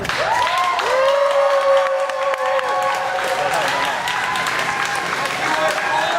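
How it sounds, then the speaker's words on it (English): Live audience on a stage show applauding and cheering loudly in a steady burst, with excited voices and shouts mixed into the clapping throughout. "if you are against purple roads, please applaud now"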